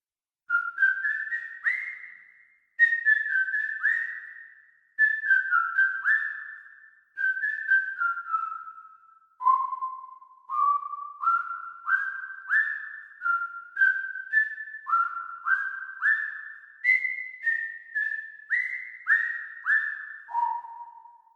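A sampled whistled melody of short phrases, each note scooping up into pitch, played alone with a clean, airy tone and steady rhythm.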